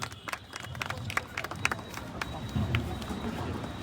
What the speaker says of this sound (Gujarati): જોરદાર તાળીઓના ગડગડાટથી આપણે બધા વધાવી લેશું